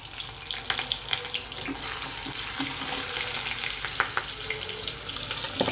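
Curry leaves fry in hot oil for paneer bhurji with a dense, steady sizzle and crackle, moderately loud and close, with scattered small pops and no talking.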